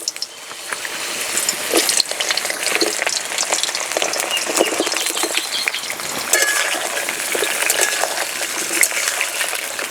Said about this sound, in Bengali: তেল গরম হয়ে গেছে, পটল দিয়ে দেব।